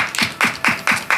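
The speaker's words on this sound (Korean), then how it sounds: "여러분 인사할 때 여러분 화면으로 또 보시고 크게 축복의 박수를 보내주셨으면 좋겠습니다" A church youth congregation at a high school worship service claps in quick, regular bursts of applause, a few sharp strokes close together over about a second.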